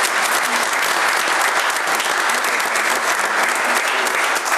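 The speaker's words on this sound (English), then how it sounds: "I'd like to applaud you guys" Sustained applause from an audience at a Village of Wheeling board meeting, steady dense clapping filling the room at even loudness for several seconds with no talk over it.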